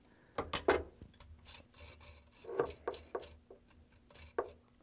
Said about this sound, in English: get hold of that ring. And unscrew it.